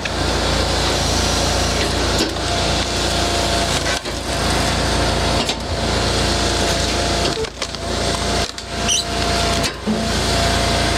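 A Hud-son Brute EXT sawmill runs continuously as its saw moves forward, a loud, dense mechanical roar broken by a few brief dips and clunks from the carriage.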